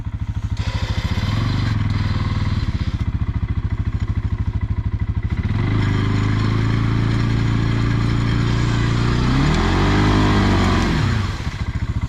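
An ATV engine stuck in mud revs hard in sustained bursts, pitch climbing and falling as it strains, loud and close, with a brief drop between pushes.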